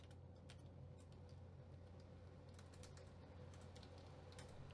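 Typing on a computer keyboard, scattered quick key clicks at a steady, fairly quiet level over a constant low electrical hum, with no voices.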